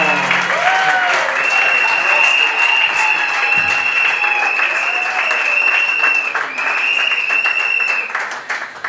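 Conference audience for peace in the DRC applauding and cheering steadily throughout, a dense crowd of clapping with some raised voices and whistles, loud and continuous.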